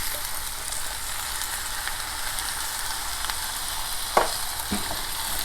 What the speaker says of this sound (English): And I'm going to go ahead and add my 1 can of beans into here.